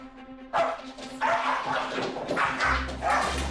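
Rescued dogs barking and yipping up close, several sharp overlapping barks in quick succession with a low hum in the background.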